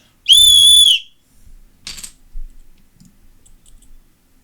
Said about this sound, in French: Et le sifflet, si on siffle, 3, 2, 1